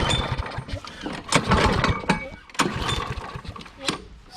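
Troy-Bilt lawn mower engine running close by, a steady rough drone with irregular surging bursts and knocks, while people talk over it.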